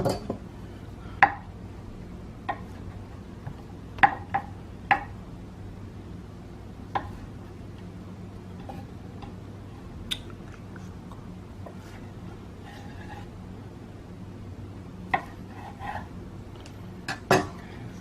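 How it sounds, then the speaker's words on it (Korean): Knife slicing Korean fish cake (odeng) on a cutting board: a few sparse, sharp taps spaced irregularly against a quiet, faintly humming room. "다음은 오뎅을 두 장만 썰어 볼게요"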